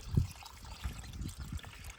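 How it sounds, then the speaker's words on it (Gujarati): Water trickles softly through a siphon pipe into a farm field, a faint, uneven dribble with small low gurgles, heard alone and close. "અત્યારે તો પાણી થોડું થોડું જ આવે"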